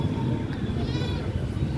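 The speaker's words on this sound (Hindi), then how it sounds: "ये 3 मेंढे है, ये बकरी है छोटी वाली, और ये 3 मेंढे।" Three rams and a small goat bleat at the Erragadda Sunday pet market. A wavering bleat rises amid nearby voices and low crowd bustle.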